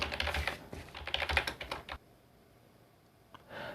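Fast keystrokes on a computer keyboard as personal details are entered into an online form, a dense burst of clicks for about two seconds, then near silence with a few more keys at the end.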